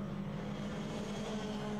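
Ginetta GT5 race cars braking into a corner at Donington Park, their engines making a steady, close, loud drone that holds throughout with no break.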